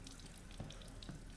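Water running from a tap in Resident Evil Village, a faint, steady splashing trickle with a couple of small drips, brief and alone.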